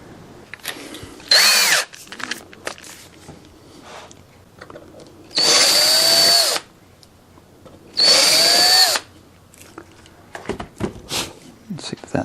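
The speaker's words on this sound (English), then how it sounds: "we need to drill out these holes a little bit so it doesn't tighten down" Power drill boring out holes in an MX2 Extreme 3D model airplane, three loud bursts of about one to one and a half seconds each, separated by quieter handling noises.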